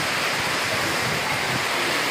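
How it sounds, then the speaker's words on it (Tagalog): Typhoon-force wind from Typhoon Kristine roars steadily in a dense, unbroken rush of noise with no voices. "Lakas ng hangin."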